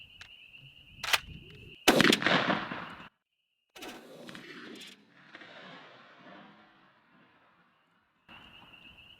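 A single loud, close shotgun blast from a Franchi Affinity 3 fitted with a Primos Tightwad choke cracks sharply at a patterning target, with clicks before it and a long rumbling decay afterward.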